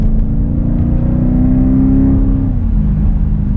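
Jeep SRT with an aFe Power exhaust, a loud, steady deep engine drone held close by, with the pitch easing slightly downward near the end.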